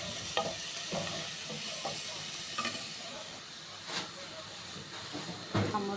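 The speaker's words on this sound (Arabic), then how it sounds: "حطينا فصين التوم كله بقى يتحمر مع بعضه كده" Garlic cloves fry in hot oil in a pot, a continuous close sizzle and hiss with occasional scraping stirs and pops.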